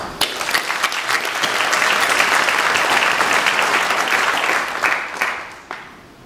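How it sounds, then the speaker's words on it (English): A conference audience bursts into sustained applause for the ANC, dense clapping swelling and holding steady for several seconds before tapering off into scattered claps. "give applause to ANC"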